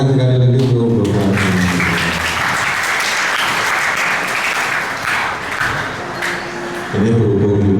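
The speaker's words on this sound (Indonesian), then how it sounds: "Tepuk tangan sekali lagi untuk Bapak." Audience applause for a speaker at an Indonesian workplace gathering, loud and sustained like a crowd in a hall, with a speaking voice at the start and again at the end.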